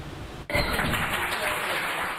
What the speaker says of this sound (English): It's a decision that led a group of Tylerites to cheer.